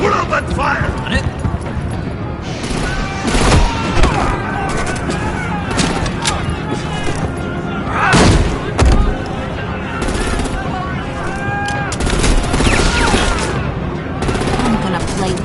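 Gunfire in Batman: The Enemy Within, the video game, heard as rapid bursts of automatic shots and scattered single cracks, loud and close, mixed with shouting voices and impact noises throughout.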